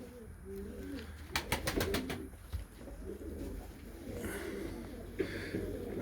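Young tumbler pigeon chicks coo softly nearby, with a few quick clustered calls and low throaty murmurs over faint background noise.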